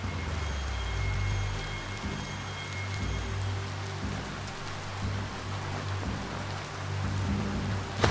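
Rain in the Biomutant video game world: a steady, even wash of falling drops pattering on surfaces, continuous and moderately loud throughout, with no voices over it.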